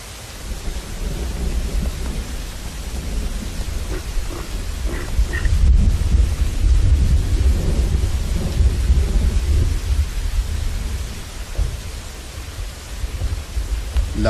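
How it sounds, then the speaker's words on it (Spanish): Freezing rain pours in a steady, dense wash over a herd of young reindeer while thunder rumbles low and heavy through the storm, swelling midway and staying loud throughout. "para ellos, la lluvia helada en la espalda es solo una extraña sensación nueva"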